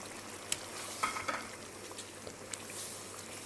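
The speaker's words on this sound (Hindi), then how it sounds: "अब इस मसाले को अच्छे से भूनने देंगे" Chicken korma masala frying in a pan, a soft continuous sizzle with a few light stirring clinks and scrapes, fairly quiet and with no talking.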